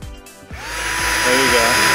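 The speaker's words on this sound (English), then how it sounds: "I had to drill two holes, so I actually got an oval to fit the cable through" A power drill whirs and rises in pitch as it bores holes into thick wood, a steady grinding tone building after a brief quieter start.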